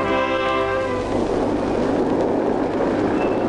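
Old tram in Leningrad running along the rails, a loud continuous rumble and rattle of the rail car with a steady hum at the start giving way to broadband wheel noise, no voices.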